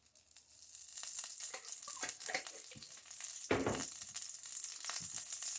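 Bacon fat sizzles in a frying pan for hoe cakes, a soft crackling hiss running steadily throughout with scattered pops and a louder burst near the middle, close and alone without talk.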